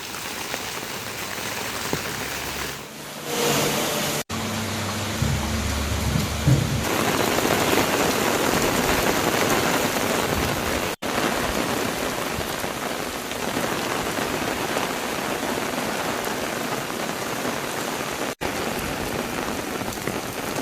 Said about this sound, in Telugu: ఎడతెరిపి లేకుండా కురుస్తున్న వర్షాలతో రోడ్లపై వర్షపు నీరు చేరి వాహనదారులు ఇబ్బందులు ఎదుర్కొంటున్నారు.